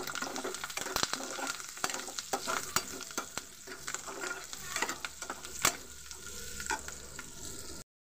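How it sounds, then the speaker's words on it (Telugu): Food fries in a pan after a dusting of pepper powder, with a soft, steady sizzle punctuated by frequent clatters and scrapes of stirring, fairly quiet and without talk. "ఇప్పుడు ఇవి ఫ్రై చేసుకుందాం బాగా"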